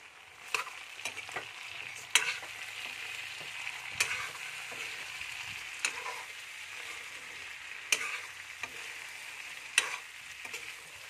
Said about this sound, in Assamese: অকণমান ধুনীয়াকৈ মাংসখিনি হিলাই ল'ম